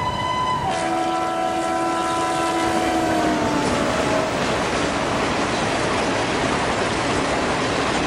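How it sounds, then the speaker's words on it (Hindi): Indian Railways 12409 Gondwana Superfast Express from Raigarh to Nizamuddin, overtaking in Indian Train Simulator: a loud, sustained train horn sounds over steady rolling rail noise and wheel clatter, with no one talking. "देखो पीछे से इसी बात पे गाड़ी आ चुकी है, 12409 रायगढ़ से निजामुद्दीन के लिए जाने वाली गोंडवाना सुपरफास्ट एक्सप्रेस।"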